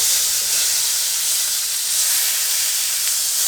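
Steak searing in a hot pan after being turned, cooked at a truck camper in the mountains, producing a loud, steady, even hiss with no other sounds.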